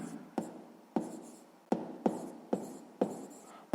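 Close, quiet scratching of a pen or chalk writing out a math answer, seven or eight brisk strokes in an irregular rhythm with nothing else heard.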